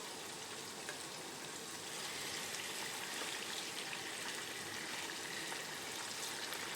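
Potatoes fry in oil with turmeric, a steady, even crackling sizzle like light rain, fairly soft and continuous with no voices.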